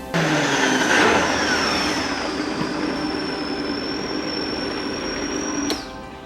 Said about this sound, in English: We have everything in the blender now, so we're going to start blending.